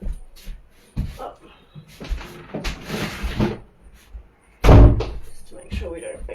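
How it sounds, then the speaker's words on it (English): A bedroom door shuts with one loud, close thud in a quiet room, while someone talks softly before and after it. "I'm just going to shut my bedroom door 1 second."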